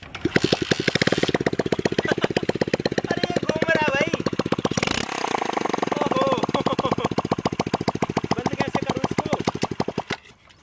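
A loud, unmuffled homemade motorcycle engine with no silencer pops and chugs in a rapid, steady rhythm close by, with a brief revving swell midway before settling back and cutting off.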